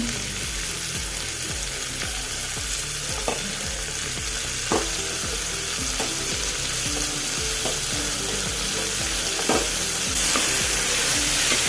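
Mixed vegetables for a curry sizzle steadily in a pan while a spoon stirs them in regular scraping strokes, with occasional louder knocks against the metal, close and continuous without talk.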